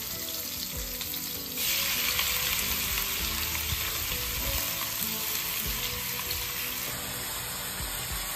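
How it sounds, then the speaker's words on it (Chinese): Sliced tofu skin is stir-fried in a wok, with loud continuous sizzling that swells after a couple of seconds and stays steady, broken by occasional scraping stirs. "我去炒菜了。 这个是切好的豆皮。"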